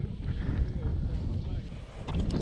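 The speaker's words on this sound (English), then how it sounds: "the wind is blowing" Wind blowing outdoors beside a farm pond, a steady low rumbling buffet against the microphone that continues throughout at moderate loudness.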